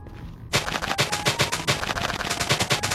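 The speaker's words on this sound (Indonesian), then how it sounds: "Lalu aku langsung meledakkan TNT-nya." A chain of TNT blocks detonates in the Nether in Minecraft, a rapid string of booming blasts rattling off one after another at close range after a quiet start.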